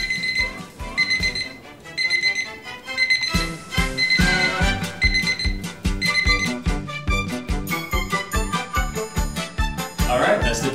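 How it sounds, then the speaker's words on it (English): A dumbbell alarm clock rings with a loud, repetitive electronic beeping pattern, chiming in rapid rhythmic bursts for the whole stretch without any talking. "Okay, the alarm's going off."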